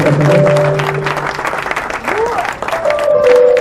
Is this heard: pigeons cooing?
no